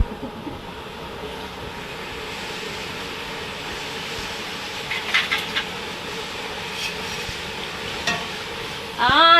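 Big karappusa snack dough frying in hot oil gives a steady close sizzle and bubbling hiss that continues without a break, with a few brief stirring knocks near the end.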